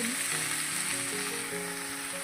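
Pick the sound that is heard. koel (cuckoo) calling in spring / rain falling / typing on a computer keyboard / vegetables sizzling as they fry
vegetables sizzling as they fry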